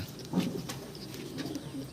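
Lalsira pigeons, a male and female pair, give a soft low coo, brief and close over a quiet murmur of background noise.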